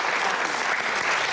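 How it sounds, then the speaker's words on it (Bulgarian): A studio audience on a Bulgarian Deal or No Deal game show bursts into loud, dense applause, a thick roar of clapping hands that stays strong and close throughout. "Силни аплодисменти, има сделка"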